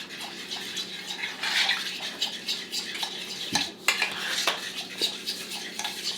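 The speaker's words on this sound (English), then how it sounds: "Let me stir it so I can show you when it's creamy." Edible finger paint being stirred in a bowl with a utensil, producing a steady wet scraping and clinking that runs throughout, close and moderately loud, with no talking.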